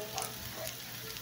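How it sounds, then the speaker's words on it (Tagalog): Chicken pieces fry for adobo in a pan, giving a brief, steady sizzle and crackle heard up close with no voices. "Halu-haluin natin muna yung manok hanggang sa maprito-prito siya guys."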